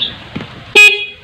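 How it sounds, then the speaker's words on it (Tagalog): A stock car horn gives one short loud honk after a faint click, with a brief quiet lead-in before it. "Ayan, tumunog na yung stock horn."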